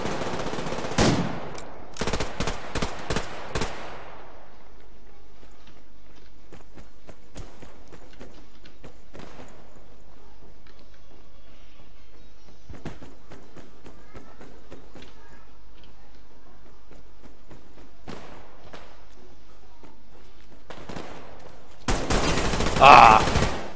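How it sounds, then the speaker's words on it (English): Machine gun fire in the shooter Survarium: a quick burst of loud, closely spaced shots at the start, scattered fainter distant shots through a long quiet stretch, and a dense burst again at the end. "that man is coming right up behind me. With his machine gun."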